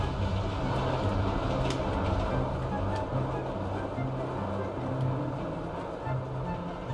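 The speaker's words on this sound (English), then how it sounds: "We're gonna chase this train right now" A train rolls past in GTA 5, a continuous low rumble with a rhythmic clatter that stays loud and steady throughout, with a faint voice underneath.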